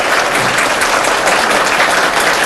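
An audience applauds at a Buddhist talk on the Triple Gem and precepts. The clapping is dense, steady and loud, a continuous wash of many hands with no voices above it.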